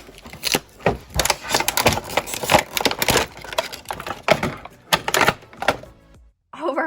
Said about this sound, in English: now let's take this doll out from the packaging